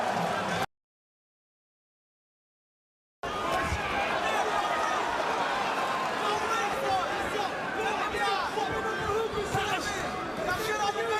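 A Brooklyn boxing crowd in a Chris Algieri versus Amir Khan fight chanting Algieri's name, a dense rhythmic roar of many voices after a short gap of silence, with a commentator talking over it.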